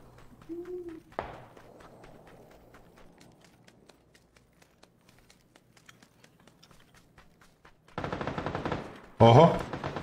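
Gunfire in a video game where an enemy carries a shotgun: a single blast early on, then sparse ticking and finally two dense, loud bursts of rapid shots near the end.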